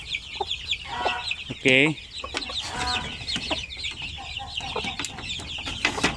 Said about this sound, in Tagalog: Yan, balik natin yung inahing manok.